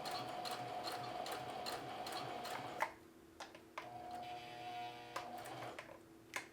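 A sewing machine stitching denim for a jeans front pocket hums with a rapid, steady needle tick, then stops as it reaches a corner, leaving quieter clicks and short mechanical taps close by.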